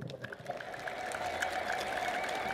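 A church congregation claps and ululates together, making a steady wash of applause mixed with high trilling voices that swells slightly and holds for a couple of seconds.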